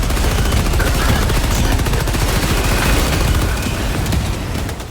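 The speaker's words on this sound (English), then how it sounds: "Explosions fill the screen with light and debris." Dense, continuous gunfire and explosions in the video game Helldivers 2, a loud unbroken barrage of rapid shots and booms that fills the whole stretch and eases slightly at the very end.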